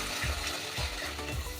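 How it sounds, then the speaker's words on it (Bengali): Spice masala for raw banana dhoka being fried and stirred in a pan, a low sizzle with three rhythmic scraping strokes about half a second apart, close and quiet. "এবার এই মশলাটা আমি খুব ভালো করে কষে নেব।"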